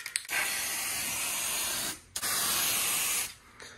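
An aerosol spray-paint can primes a Monte Carlo lowrider show car in two long, loud, close hissing bursts, separated by a brief pause.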